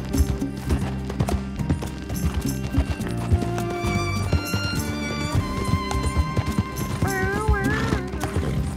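Galloping horse hooves in Red Dead Redemption 2, a steady clip-clop running beneath loud game music with melodic tones, with occasional whinnies.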